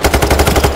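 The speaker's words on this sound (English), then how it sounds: "Shoot him until he drop dead." A rapid, loud burst of automatic gunfire from a video game, with close, evenly spaced shots in a brief run.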